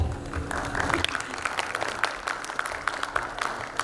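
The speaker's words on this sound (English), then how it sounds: "yes, we can clap" An audience claps steadily through a conference session, a dense patter of many hands at moderate loudness, with a voice faintly audible beneath it.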